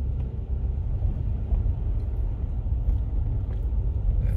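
A car driving along an unfinished concrete road under construction, heard from inside as a steady low rumble of tyres and engine, continuous and fairly loud throughout.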